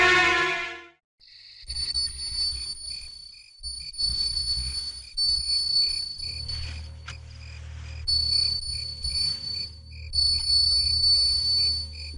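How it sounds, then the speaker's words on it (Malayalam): A bell rings in repeated bright, sustained metallic tones over a low background rumble, with no voices. "കേട്ടില്ലേ ഒരു മണിശബ്ദം?"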